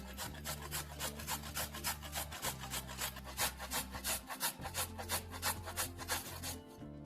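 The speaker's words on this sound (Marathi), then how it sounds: "हे गाजर स्वच्छ धुवून घ्यायचे, त्याच्या दोन्ही बाजूचे कडांचे भाग काढून टाकायचे आणि हे गाजर किसून घ्यायचे." A carrot is grated by hand, its rasping strokes repeating in a quick, even rhythm close by, loud and alone except for a faint low hum underneath.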